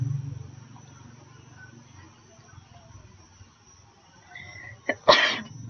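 A single sharp, forceful cough bursts out close by from a person with a sore throat, following several seconds of quiet room noise.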